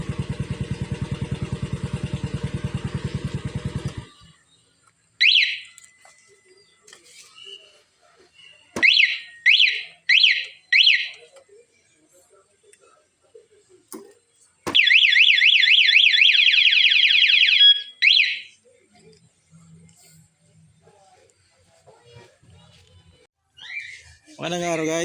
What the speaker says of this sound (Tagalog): Kakabit tayo ng alarm system kay Mio 125.